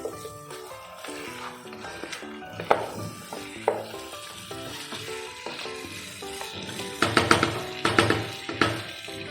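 Chicken sautéed over medium flame for a thin Bangladeshi chicken-potato curry, with continuous close sizzling and repeated spatula scrapes and clatters against the pan, growing busier toward the end.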